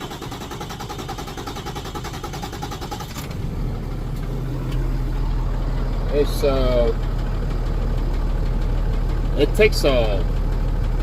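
A diesel engine cranks over and then settles into a steady low idle after a fuel water separator filter replacement, running continuously at moderate loudness while someone talks over it.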